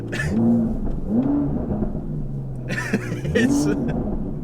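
An Aston Martin DBS engine revs up in repeated rising surges, loud and close, with people talking excitedly over it.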